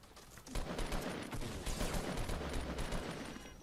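Sustained gunfire from the video game Fortnite, a dense, loud barrage of rapid shots that runs steadily through the whole stretch, with no voices over it.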